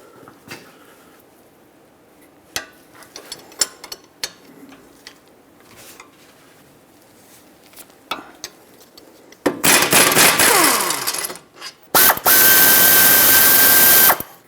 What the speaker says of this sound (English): So I'm just going to use a wrench and break it free that way.